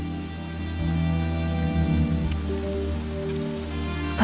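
Steady rain patters on surfaces outside a house during a film scene. Low sustained tones run beneath the rain throughout.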